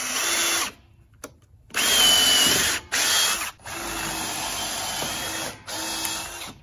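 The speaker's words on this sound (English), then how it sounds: "Now we can drill the holes for the other ones." Power drill boring holes for a DIY solar panel ground mount, heard as several loud, close whirring bursts of a few seconds each with short pauses as the trigger is released and squeezed again.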